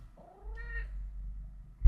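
A cat gives one clear, rising-and-falling meow close by, followed by quiet and a brief thump at the end, with no talking.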